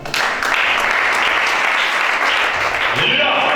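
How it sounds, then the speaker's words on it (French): A church congregation applauds in a dense, loud, sustained clapping that fills the room, with voices mixed into the noise. "Acclame chacun."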